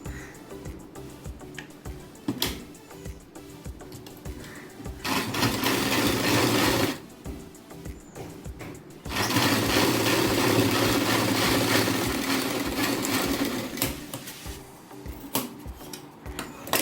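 Sewing machine stitching a blouse, running in two sustained bursts with quieter pauses and handling noise between them.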